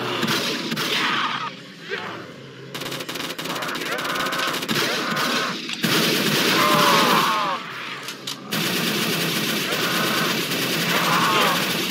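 Loud, dense automatic gunfire rattles in the Project Lazarus video game, with sustained bursts of machine-gun fire and short gaps between them, and voices mixed in underneath.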